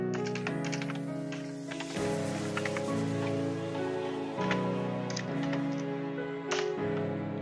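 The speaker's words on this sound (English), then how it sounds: "Then we can type in the name of the jar file." Quick bursts of computer keyboard keystrokes tap out a file name, crisp clicks clustered in short runs with brief pauses, set against a steady low musical backdrop.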